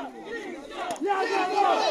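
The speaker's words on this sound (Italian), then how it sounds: "alzano il loro grido i tifosi di Malvitano, a cui rispondono prontamente i sostenitori di Fazzino con un sonante Jacopo" Boxing fans at a memorial bout raise a loud collective chant, rival supporters answering with a ringing shout, the crowd swelling midway and staying dense and energetic.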